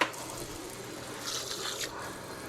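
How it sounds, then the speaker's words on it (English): Water runs from a kitchen tap while shrimp are prepared for baking, a steady, moderate hiss of flow that swells slightly midway and continues without talk. "sometimes what I'll do is I'll run some water"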